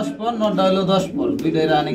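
A pair of Maltese pigeons coo close by in soft rolling, throaty bursts, two short phrases separated by a brief pause.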